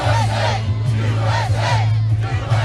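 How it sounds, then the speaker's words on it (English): A large political rally crowd in Allentown chanting "USA" in a steady, repeated three-beat rhythm, loud and close, with many voices in unison. "Can we get a USA chant?"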